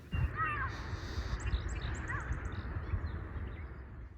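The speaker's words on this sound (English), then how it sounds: "Here we've got a lovely song sparrow" A song sparrow sings outdoors: a few bright, faint trills and chirps, with a short run of repeated notes, over a low background rumble and no talking.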